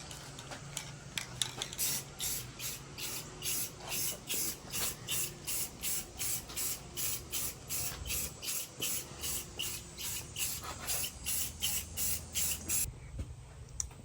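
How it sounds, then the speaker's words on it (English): Repeated short bursts of aerosol spray paint hiss in a steady rhythm, close and moderately loud, as truck parts for a 2nd gen Dodge Ram are coated. "Just hit it with some spray paint,"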